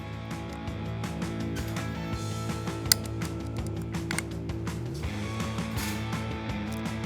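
Crossover bolts being tightened down on a wear sleeve kit install, giving repeated ratcheting clicks and metallic taps with a steady mechanical drone underneath, close and moderately loud, with no talking.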